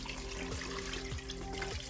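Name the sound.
water being poured into a pot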